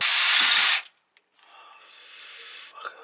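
A power drill bores into a snapped propshaft bolt on a VW Polo 6n2 Quattro. It gives a loud, close whir for under a second, then stops abruptly, followed by fainter, steadier grinding.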